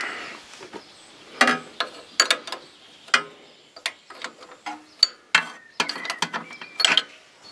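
A torque wrench ratchets in sharp, uneven bursts of clicks while tightening cylinder head bolts on a Husqvarna YTH150 lawn tractor engine, close and fairly quiet with short pauses between strokes.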